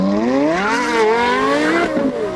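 Porsche Carrera GT and Lexus LFA, both V10s, accelerating hard off the line in a quarter-mile drag race, engines rising steeply in pitch together, loud and close, with a brief dip as a gear changes.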